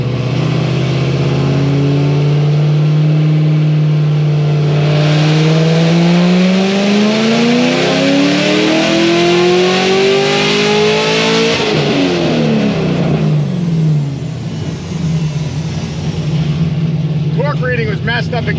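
A Corvette ZR1 making a full dyno pull to about 6,900 rpm: the engine's loud, close roar climbs steadily in pitch, then drops back to a rumbling idle, with people talking over it.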